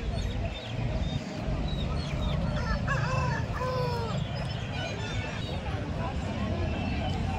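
Roosters crow at a country chicken and breed rooster market in Chandapura; one clear crow rises midway above a busy bed of clucking fowl and murmuring crowd chatter.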